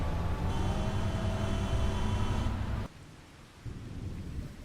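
Rain and rolling thunder in the farming game Farming Simulator 25, a loud, steady roar with a low rumble that drops away abruptly, then returns as softer, sustained rainfall with no talking.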